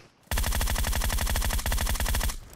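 Automatic gunfire in the PUBG Mobile video game: a rapid, loud, close burst of evenly spaced shots lasting about two seconds, then stopping.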